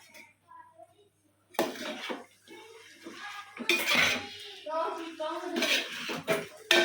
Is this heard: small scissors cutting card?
no